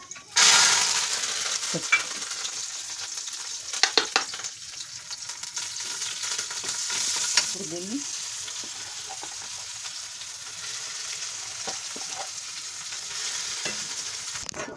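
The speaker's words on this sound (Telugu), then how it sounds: "పోపు చూసారా ఎండుమిరగాయలు ఆవాలు కరివేపాకు" Tempering of dried red chilies, mustard seeds and curry leaves frying in hot oil for tomato pickle, a loud steady sizzle with crackling pops and occasional utensil clinks, and a brief spoken remark partway through.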